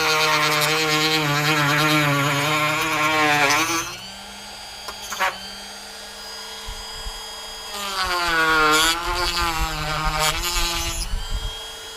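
A screwdriver bit whines as it cuts into a switchblade key fob, a high, tonal drilling sound in two long bursts separated by a quieter pause, close and loud.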